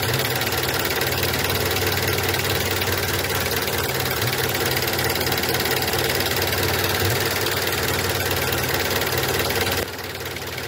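A car engine idles roughly with strong vibration during an idle speed control valve test, a steady close drone with a knocking pulse that drops slightly near the end.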